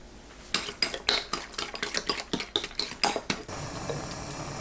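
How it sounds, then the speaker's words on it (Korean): Eggs and salt are beaten in a bowl with a utensil, making a run of quick, sharp clinks and scrapes against the bowl. The strokes come close and distinct, then give way to a quieter background near the end. "꽃소금 넣고 풀어주세요."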